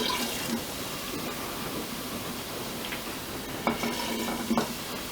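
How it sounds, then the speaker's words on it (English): White vinegar poured onto baking soda fizzing and sizzling steadily up close, with faint stirring clinks and a few brief knocks near the end. "when you add the white vinegar to your baking soda, it will buzz and fizzle and make noise."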